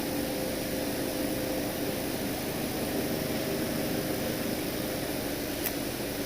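Walk-in cooler evaporator fan motors run in a steady, unbroken broadband whoosh with a low motor hum beneath, constant and fairly close, with no talk.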